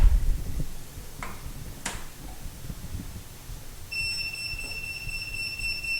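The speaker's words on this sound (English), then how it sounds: "if it was to start beeping, you would have power on" A handheld voltage tester held near live wires during a bathroom light fixture installation emits a steady high-pitched electronic beep in the last two seconds, after a few faint clicks and handling noises.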